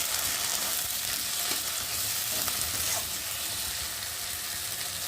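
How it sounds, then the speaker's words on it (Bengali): Mustard and chopped tomato frying in a pan while being stirred, cooking masala for a hilsa-like fish dish; a steady close sizzle with scraping stir sounds, no voices. "আর দেবো সর্ষে, আর দেবো কেটে রাখা টমেটো কুচি দিয়ে একটু ভালো করে নেড়ে দেবো।"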